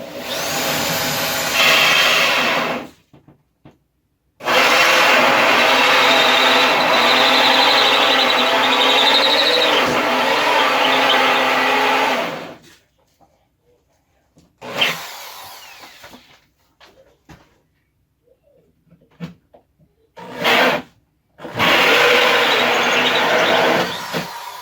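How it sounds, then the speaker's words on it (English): A hole saw cuts a hole through the side of a wooden pantry cabinet in loud, sustained bursts of grinding drilling: a short run, a long steady cut, then a final burst, with quiet gaps and faint clatter between. "I brought up a hole saw and I'm going to put a hole in the side of the cabinet for power bar and plugs to go through."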